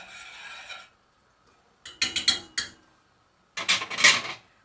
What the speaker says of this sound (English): we just want to keep on mixing it up, because we've added cold mixture